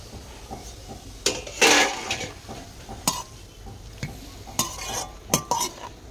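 A spoon scrapes and stirs a spice mixture of salt, cumin powder, red chilli and turmeric in a wok for radish pickle, with intermittent metallic clinks and scraping strokes at close range.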